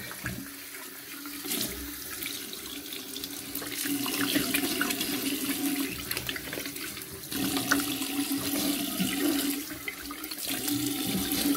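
Warm water runs steadily from a tap into a sink while a face mask is rinsed off, a continuous close splashing flow with small shifts in intensity and no talking.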